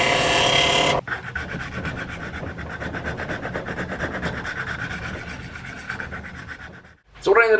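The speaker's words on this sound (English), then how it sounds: "sanding the inside of this down with some 400 grit" Rapid, rhythmic rasping of 400-grit sandpaper rubbing back and forth inside a metal motorcycle throttle tube, close and steady for several seconds, with a louder burst at the start and end.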